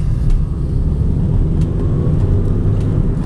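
A Vauxhall Combo 1.4 LPG van engine hums low and steady on a test drive through a gear change, a smooth muffled cabin rumble with a few faint clicks and no voices.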